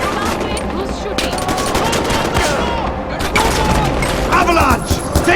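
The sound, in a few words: gunfire in the video game Far Cry 4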